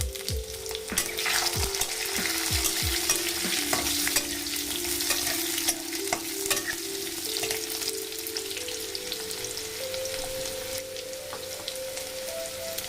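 Potato pieces sizzle and crackle steadily in hot oil with tempering spices, a close, continuous frying hiss with occasional stirring clatters and a faint tonal hum underneath.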